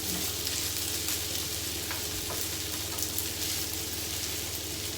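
Rice fries on a hibachi griddle at home with a continuous, dense sizzle, close and steady throughout, with a few faint scrapes and no talking.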